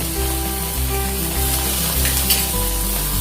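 Golden-brown onions with ginger garlic powder fry loudly in a pan for a cashew corn curry, a dense, even sizzle with a soft stirring scrape, close and without talk.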